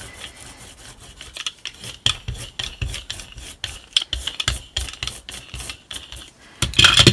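Fingers rummage and mix paper scraps by hand, giving a rapid, irregular rustling and scratching that's close, dry and continuous, with a louder flurry near the end.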